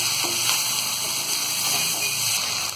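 Chana bhaji sizzles steadily in a pan while being mixed, a continuous close hiss with faint scraping stir sounds underneath.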